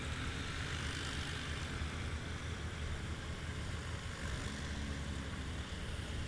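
A propeller aircraft taxis at a STOL practice at Patriot Airpark, Oklahoma, a continuous droning engine rumble at moderate distance, steady with slight fluctuations.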